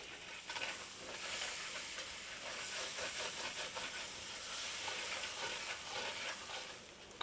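A whisk works flour into a pan sauce for chicken piccata meatballs. It makes a continuous close scraping and stirring swish over a hot sizzle, with no talk.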